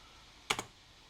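Two quick key presses clack on an NEC PC-8001 mkII computer keyboard, close and crisp, with a short pair of clicks standing out from a quiet background.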